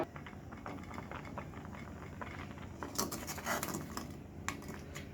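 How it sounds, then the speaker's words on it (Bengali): A spoon stirs a milk malai mixture for kheer in a pot. The scraping is soft and repetitive, with quiet taps of the utensil against the metal and a few louder clinks, all fairly faint and without speech. "এই সময় খালি অনেক বারবার নাড়া দিতে হবে"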